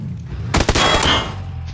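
A short burst of rapid gunfire in the battle royale game PUBG, several sharp close shots crowding together in under a second before a ringing tail fades out.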